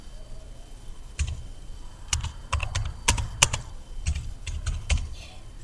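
Password being entered on an Android phone keyboard, heard as a series of about a dozen crisp, close taps and clicks in an uneven rhythm with quiet gaps between them.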